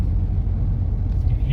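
A VW Amarok with an engine vibration fault, heard from inside while driving as a steady low engine rumble throughout, fairly loud and close, with no talk.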